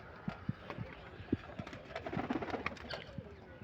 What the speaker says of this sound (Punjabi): ਇਹ ਲਿਆਂਦੇ ਕਬੂਤਰ ਉੱਪਰ ਖੜੇ